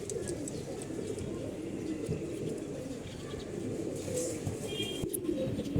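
Cooing pigeons fill a loft with a continuous low, throaty murmur, several birds calling at once nearby, with light chirps and shuffling.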